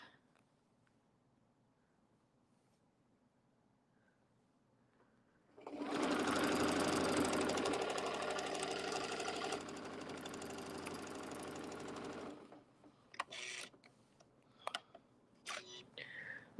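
A sewing machine stitches a straight line in one loud, steady mechanical burst of about seven seconds, then stops, followed by a few sharp clicks and handling noises.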